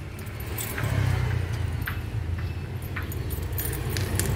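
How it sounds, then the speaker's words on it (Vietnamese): A key works the lock of a Viet Tiep safe, making close metallic clicks, scrapes and jingling in short bursts over a low background rumble. "Đây, một tính năng mà mở bằng chìa khóa."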